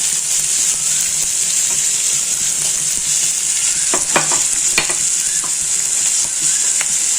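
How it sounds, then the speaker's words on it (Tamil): Tomatoes with rock salt sautéing in a pan, a loud steady sizzle with a few clinks of a spoon stirring, close up and with no talk. "ரெண்டு தக்காளியும் இதில் நம்ம போட்டுட்டோம் நல்லா வதங்கட்டுங்க"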